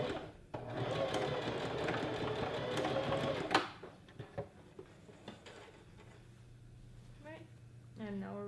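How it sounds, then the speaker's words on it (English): A sewing machine runs in one steady burst of rapid whirring stitches for about three seconds, joining pieces of a knife-pleated maxi skirt, then stops; a few clicks and a voice follow afterward. "we're just gonna sew these two inside pieces"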